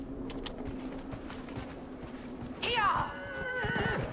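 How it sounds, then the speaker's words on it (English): A horse in Dragon Age: Inquisition gives a loud, quavering whinny that rises and trembles for over a second, preceded by soft hoof clip-clops and quiet game ambience. "Hello, horsey."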